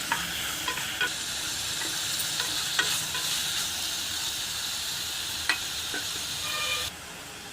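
Brinjal and tomato curry cooks in a pan, a steady sizzle with periodic spoon scrapes and clicks as it is stirred, ending in a quieter hiss.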